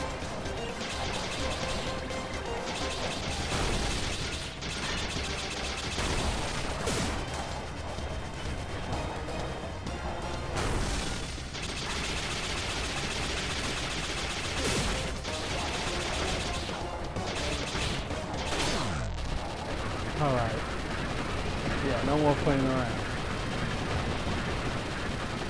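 Rapid video game gunfire from Iconoclasts crackles in dense bursts over busy game music and effects, with occasional crashes and a player's voice under the action.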